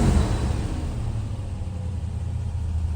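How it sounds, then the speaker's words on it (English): A 1971 Rover 3.5 litre engine running at steady idle, a close, low rumbling hum with an even, smooth beat that holds constant for a few seconds. "Engine sounds very crisp and sweet."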